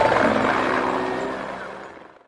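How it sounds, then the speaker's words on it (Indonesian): Helicopter sound effect played for a toy helicopter, a loud whirring rotor and engine drone that fades out over about two seconds, with no talk. "di sini ada helikopter."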